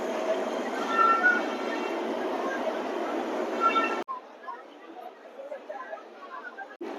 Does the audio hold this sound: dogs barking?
no